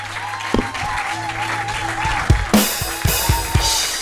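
A church congregation in Béthune bursts into applause, a dense clatter of clapping that grows louder and more energetic after a few sharp, scattered early claps.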